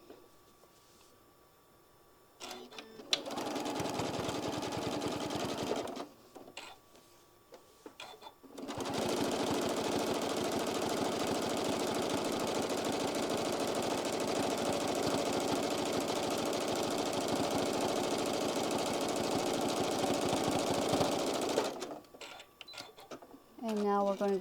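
A sewing machine runs a three-step zigzag stitch down the center of a drawstring, in a short burst and then one long steady whirring run. A voice talks briefly in the pauses.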